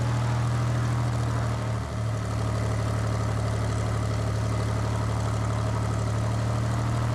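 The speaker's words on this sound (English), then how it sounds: "Give it some throttle here. Don't have to do too much. Just check the magnetos." A light aircraft's piston engine holds a steady, loud propeller drone during a run-up for a magneto check before soft-field practice, with a brief dip in the hum partway through.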